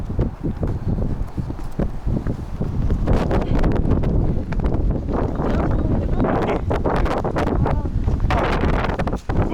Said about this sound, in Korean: 바람이 와 여기 이렇게 바람이 세게 불어